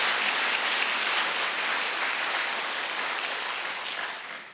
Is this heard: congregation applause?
yes